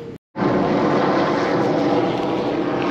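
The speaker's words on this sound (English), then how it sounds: "there may or may not be a police or news chopper circling the boat ramp right now" A police or news helicopter circling overhead near a boat ramp, a loud continuous rotor and engine roar after a brief dropout, steady and close, with no talking.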